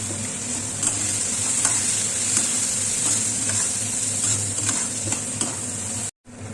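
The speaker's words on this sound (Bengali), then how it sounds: "লাল লাল করে ভাজবো পেঁয়াজটা মানে বাদামি কালার আসবে" Onions and turmeric powder fry in a pan for an egg tarka, a steady loud sizzle with a spatula stirring and scraping in a regular rhythm, close up, with a brief dropout near the end.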